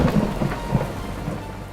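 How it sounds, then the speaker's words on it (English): Heavy monsoon rain pours steadily over New Delhi, with a low rumble of thunder rolling beneath the dense hiss of rainfall. "As the monsoon rains lash the city"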